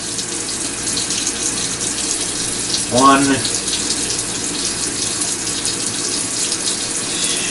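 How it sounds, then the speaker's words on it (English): Tap water runs steadily into a kitchen sink as an egg is brought over for rinsing, a constant gushing wash filling the whole stretch, with a brief clatter midway and a voice in the room. "I'm actually bringing the egg over to the sink so I can get the water in there"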